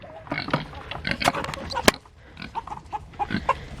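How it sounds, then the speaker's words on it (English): A female pig grunts and squeals loudly in a series of close, rough bursts, with short pauses between them. "make sure this pig has food. She's being awfully loud."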